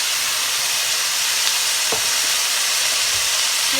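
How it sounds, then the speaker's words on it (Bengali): Chopped onion frying in hot oil left over from frying rohu fish, giving a loud, dense, continuous sizzle and hiss with a faint stir or two, close and without speech. "এখন এই তেলটার মধ্যে দিয়ে দিচ্ছি এক কাপ পেঁয়াজ কুচি"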